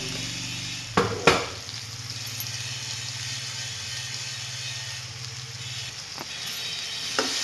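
Chopped ridge gourd sizzles steadily in hot oil in a pan, a continuous hiss with a few sharp clanks of a spoon against the vessel near the start and toward the end.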